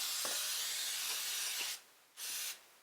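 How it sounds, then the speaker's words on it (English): Cooking spray is sprayed onto a baking pan in a long, loud continuous hiss, then stops and gives one more short burst, close up and with no voices. "I really did spray it liberally"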